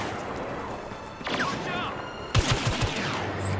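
Blaster gunfire in Star Wars Battlefront: a burst of rapid sharp shots near the end after a brief whooshing effect, with a faint background and talk underneath.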